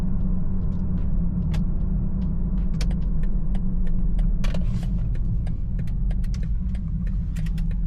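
A BMW 330i running a JB+ tune pulls hard on a quarter-mile run, its engine a steady loud rumble throughout with faint rattles and clicks over the drone, close and continuous with no speech.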